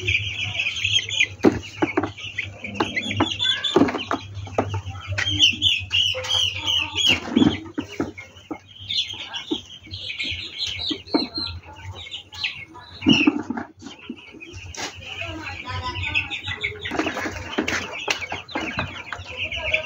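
Dense clucking and chirping from a shed of about 1,900 seven-day-old broiler chickens on a poultry farm, with overlapping calls filling the whole stretch and occasional louder bursts over a steady low hum.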